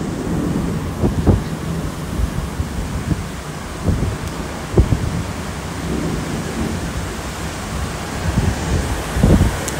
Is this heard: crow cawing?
no